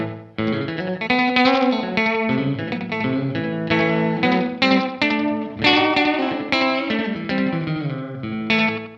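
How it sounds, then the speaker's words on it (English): Electric guitar played through a 1983 Carlsbro Echo AD1 analogue echo unit with the echo level raised, loud sustained notes smearing into repeating trails and a wash of delay. "I can actually turn the echo level up a bit as well."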